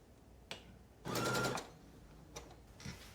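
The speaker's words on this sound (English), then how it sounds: "We're going to top stitch all the way around, just so it's nice and neat, and close up that hole." A sewing machine top-stitches around a fabric tarot bag in one short, loud half-second run of rapid stitching. Quiet clicks and handling noises come before and after it.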